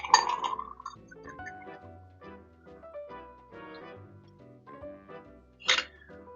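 A punch-style cocktail with orange juice being poured into a 10-ounce glass of ice, beginning with a cluster of bright clinks of ice against glass, then soft uneven trickling, and ending in a sharp final clink.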